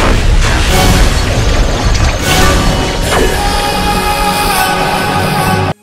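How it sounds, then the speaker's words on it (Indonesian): An explosion in a Bollywood film is a loud, dense booming roar with crashing bursts layered over music and effects, sustained for several seconds before cutting off abruptly. "Saat berada di ketinggian, Jiwan meledakkan Rawan dan mengambil heartnya"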